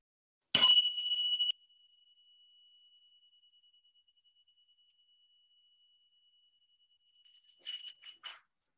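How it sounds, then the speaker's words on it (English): A tingsha bell struck once, giving a bright, sustained high ring that cuts off after about a second, followed later by a few lighter metallic clinks. "this is what the bell or the tingsa sounds like"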